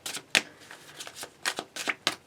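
A full-size tarot card deck from the 90s is shuffled by hand. The cards give off a series of close, crisp riffling bursts in an uneven rhythm, with sharp flicks between softer rustles and no talking.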